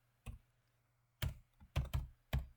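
Computer keyboard typing, five soft separate key presses close up in a quiet room, irregularly spaced with a quick pair near the end.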